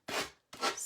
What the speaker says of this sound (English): it's just sanding block from Dollar Tree. I know, I'm sorry that that's loud.